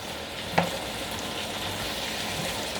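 Lamb mince and sauce being stirred around in a hot pan for a bolognese, a constant close sizzle with one short scrape of the utensil early on.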